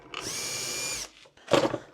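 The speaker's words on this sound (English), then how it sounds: "put the little tiny pilot bit in, and drill those 2 holes" A power drill bores two small pilot holes through a hinge jig for cabinet door hinges, one sustained whining burst of about a second, a brief pause, then a second shorter, rougher burst close by.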